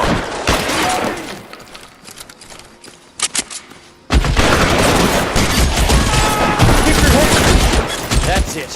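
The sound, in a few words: gunfire in the video game L.A. Noire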